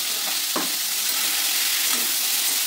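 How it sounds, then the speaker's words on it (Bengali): A star fruit chutney sweetened with batasa is stirred in a hot pan, giving a steady sizzle and frying hiss throughout with a couple of brief scraping stirs near and alone. "আবার নাড়াচাড়া করছি আমি, বেশ খানিকক্ষণ ধরে নাড়াচাড়া করতে হবে।"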